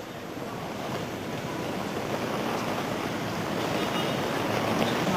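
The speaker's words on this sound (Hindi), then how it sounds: "गेटवे ऑफ इंडिया के पास आप देख सकते हैं किस तरीके से ऊंची लहरें उठ रही हैं" High sea waves churn near the Gateway of India in Mumbai during heavy rain, a continuous rolling surf roar with wind noise that gradually swells louder.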